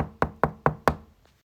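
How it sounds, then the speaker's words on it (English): Five sharp, evenly spaced knocks land on a door in quick succession, each a crisp close rap that decays fast, followed by a faint trailing tap and then silence. "the wolf knocked at the door"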